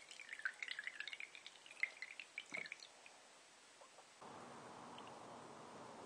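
Water trickles and drips through a homemade straw-style filter packed with cotton balls and paper, a quick patter of close, faint drops that thins out and then gives way to a soft steady hiss.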